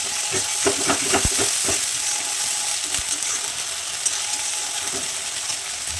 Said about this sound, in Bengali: এরপর মশলাটাকে ভালো করে কষাতে হবে